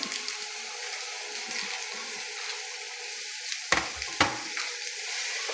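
Chopped onions fry in a pan for a Kerala varutharacha chicken curry, giving a steady soft sizzle with no talk, broken near the end by two sharp clatters of the spoon stirring.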